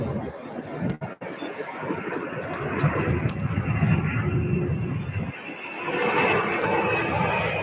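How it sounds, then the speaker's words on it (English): McDonnell Douglas MD-11 jet taking off at Louisville airport, a broad, steady engine roar that swells and holds, heard from a distance with faint chatter nearby. "And here we go with our MD-11 takeoff."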